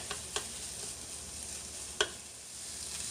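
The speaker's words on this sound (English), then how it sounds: "I'm going to cook this until the sausage is brown, and then I'll add in the spinach" Sausage fries in a non-stick pan with no oil added, giving a faint, steady sizzle close by, broken by a few sharp clicks and scrapes from stirring.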